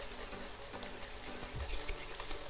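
Fresh cream is whisked in a pot on a gas stove for a cream soup, with continuous soft stirring and scraping over a steady sizzling, bubbling background.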